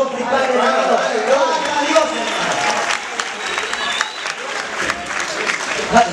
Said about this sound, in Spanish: Quiero un aplauso fuerte por estos dos principales